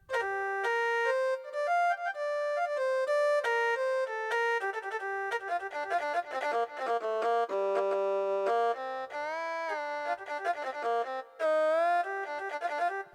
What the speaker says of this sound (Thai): เออหูก็คือเสียงซ้อนะครับซ้อของจีน